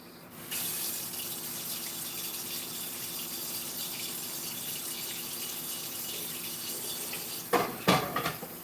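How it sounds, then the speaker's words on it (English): Water runs from a kitchen tap in a steady, close gush for about seven seconds, then a few brief knocks and clatters follow near the end. "run the water for 10-15 seconds first, and then trickle it, and then run it again for a couple seconds"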